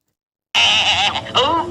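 A horse at a beach resort film-shooting spot lets out a loud, close whinny after a moment of silence, with a wavering, falling neigh rising again near the end.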